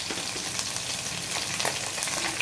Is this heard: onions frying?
yes